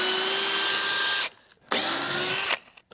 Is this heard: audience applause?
no